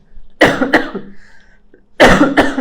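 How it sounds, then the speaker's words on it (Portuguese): A woman with a lingering cold coughs twice, each a harsh, close burst of two or three quick hacks, separated by a short quiet pause. "tô com uma tosse chatérrima"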